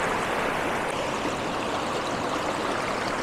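The Balason (Dudhia) river rushes over rocks, a close, steady and loud broadband roar of flowing water that holds even throughout with no voices.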